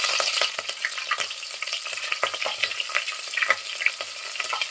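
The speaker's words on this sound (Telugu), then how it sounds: "ఆయిల్ అయితే వేడైంది ఫ్రెండ్స్. ఇందులో నేను యాలకులు, లవంగాలు వేసుకుంటున్నా." Cardamom pods, cloves and two chillies sizzling and crackling in hot oil in a home kitchen pan, a close, continuous frying hiss with scattered sharp pops and stirring.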